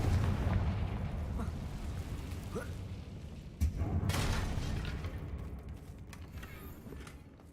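A Confringo spell blast in the Hogwarts Legacy video game lands as a deep, rumbling explosion. Booming, fiery bursts roll across the whole stretch, with a sharper impact near the middle that fades into a lingering rumble.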